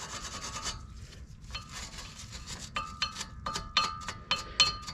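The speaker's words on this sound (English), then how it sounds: "I just like to brush these pretty well with a little wire brush, just to get any rust or debris out of there" A small wire brush scrubs rust and debris from brake pad clips on a 2011 Honda Civic caliper bracket: a series of close, raspy scraping strokes, irregular at first, then quicker short bursts toward the end.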